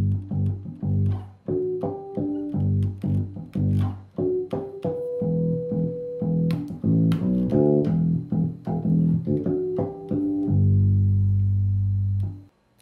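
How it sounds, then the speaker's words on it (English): Electric bass guitar plays a melodic line built from ringing harmonics mixed with fretted notes, a steady run of clear bell-like tones that ends on a long sustained low note. "An example of how harmonics could be used in a bass line might sound something like this."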